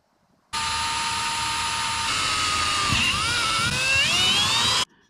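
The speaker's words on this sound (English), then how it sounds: "Yeah, I think I'm gonna drill that real fast." A power drill boring a hole through a laser engraver casing, a loud close whine that starts sharply, holds steady, then rises in pitch as the bit cuts through before stopping.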